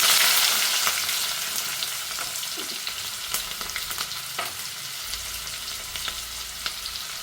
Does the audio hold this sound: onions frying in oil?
yes